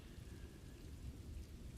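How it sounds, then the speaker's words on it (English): Steady mountain rain drums on a roof in the deep dark before morning, a soft continuous wash with a low rumble beneath, unbroken and without voices. "The sound of mountain rain in the last hours before morning"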